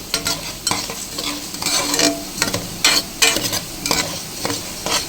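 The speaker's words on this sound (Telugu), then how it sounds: "ఇవి మంచిగా వేపుకోవాలి, దోరగా రావాలి ప్రతి ఒక్క గింజ కూడా." Coriander seeds dry-roasting in a pan for a curry leaf chutney, stirred steadily with a spatula that scrapes and rattles the seeds in repeated bursts, close and fairly loud, with no voices.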